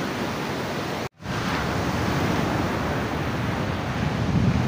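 Ocean waves wash onto a village beach in Jacquesville, in the Grands Ponts region, as a continuous broad roar of surf mixed with wind buffeting the microphone, broken by a momentary dropout early on.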